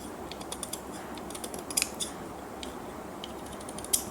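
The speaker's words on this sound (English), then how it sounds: "now I'm going to just trim those plastic" Trimming plastic canvas with a cutting tool while making a Rubik's Cube tissue box cover: a series of soft, crisp snips and clicks spaced unevenly over steady background hiss, close and fairly quiet.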